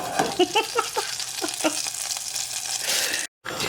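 Butter browns in a pan for balsamic brown butter over roasted asparagus, crackling and popping with irregular bubbling bursts over a close, steady hiss, then briefly cutting to silence near the end.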